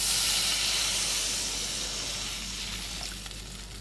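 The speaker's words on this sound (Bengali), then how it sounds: "ঝুলের জন্য জল অ্যাড করে দেব।" Water poured into fried spice paste in a hot pan for a fish curry erupts in a loud, steamy hiss that slowly fades over several seconds.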